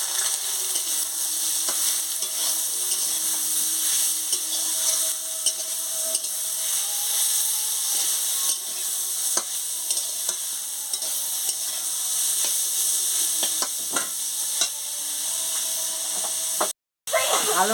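Chili and garlic sizzle and fry steadily in a pan while being stirred, as the first step of a fried cabbage dish, with a constant bright hiss and occasional scraping clicks of the spatula, close and continuous throughout.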